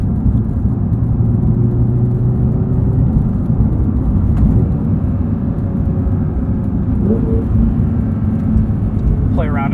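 A 2023 Porsche 911 GT3 with a manual gearbox is driven in track mode with auto rev matching. A loud, steady engine drone runs throughout, rising and falling slightly.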